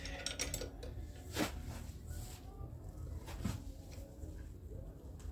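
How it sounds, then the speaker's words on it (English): Metallic ratcheting and clanking from a 17 mm spanner working a bolt loose under a Chevy ute during saddle bush and control arm work, with two sharper cracks standing out amid steady workshop clatter. "I'll just get a 17 spanner here. Let's try and crack this."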